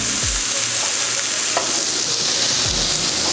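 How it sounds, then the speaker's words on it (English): Loud, continuous sizzle as a very hot canister is pressed onto a coffee-rubbed steak, a close, steady searing hiss with faint low scraping underneath. "I got this canister ripping hot. We're going to lay it on the steak, press it in"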